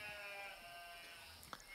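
Sheep bleating in a field, a quavering, drawn-out call heard at a moderate distance over a steady background hum, with a brief sharp sound near the end.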